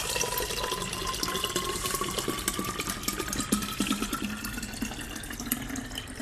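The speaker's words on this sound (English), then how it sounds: "water or your favorite juice or anything you'd like pretty much in there." Water streams into a DrinkMate carbonation bottle in a steady gurgling pour, the tone slowly rising as the bottle fills, close and with no talk.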